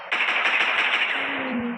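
A submachine gun in the World War Polygon shooter game fires one loud sustained burst lasting under two seconds, with rapid shots blurring into a continuous harsh roar that tails off slightly at the end.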